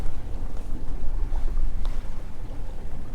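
Strong wind of about 18 knots roars and buffets on board a sailboat in the Mediterranean off Chania, loud and continuous with low rumbling gusts and faint water sounds.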